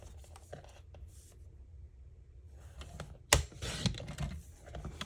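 Scissors cutting white daisy cardstock for a scrapbook layout, with faint snips early on, then a louder burst of crisp cutting and paper handling near the end, close and without talk.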